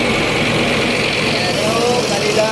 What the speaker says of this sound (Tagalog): Ayan o, kanilang makina.